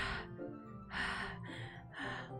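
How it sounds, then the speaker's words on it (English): Sharp inhales drawn through clenched teeth in a Doki Doki Literature Club scene, several quick hissing breaths in a row, close and fairly quiet over a low background hum. "It sounds like breathing. A sharp inhale, like someone is sucking the air through their teeth."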